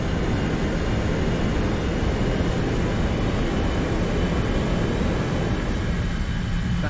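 A fighter aircraft engine roars loud and unbroken in a War Thunder simulator flight, a dense, heavy drone with no pauses and no voices.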